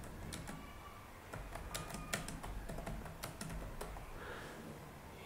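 Rapid keystrokes on a computer keyboard while entering text in MS Word, a quiet, irregular run of close clicks with brief pauses and no talking.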